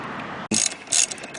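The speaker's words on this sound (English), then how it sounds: "I've broken the bolt loose. And I'm just untorquing them" A ratchet wrench loosening brake caliper bolts on a Kawasaki Ninja H2 motorcycle gives quick, close clicking bursts, with a sharp snap midway and a second loud ratchet pass near the end.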